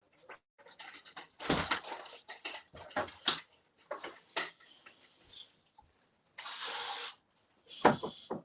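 Several short bursts of hissing spray from a spray can, irregular and close, with a longer steady spray near the end, among quieter rustling.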